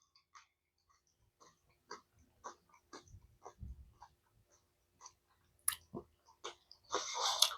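Someone chewing a sweet pickle up close, producing a quiet series of wet, crunchy bites and squelches at an irregular rhythm, ending in a louder burst.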